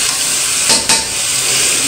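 Liver (kaleji) frying in a pan, a steady broadband sizzle throughout, with two brief louder bursts as pieces are moved or stirred around the hot oil; no voices.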